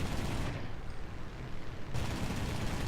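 Aircraft guns firing in War Thunder during an air chase, a continuous roaring rattle of shots that eases off briefly in the middle, then surges back at full strength.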